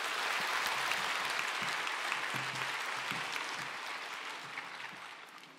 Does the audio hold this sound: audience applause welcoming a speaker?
yes